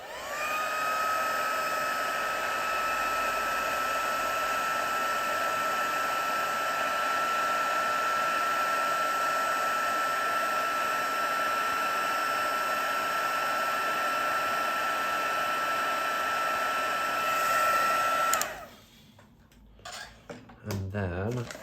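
A white craft heat tool blows hot air over powder for a Stampin' Up! stamping project, giving a loud, steady whirring drone for about eighteen seconds before it cuts off, leaving a few quieter handling noises.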